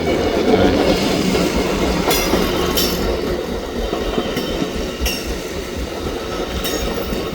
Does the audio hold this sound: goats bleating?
no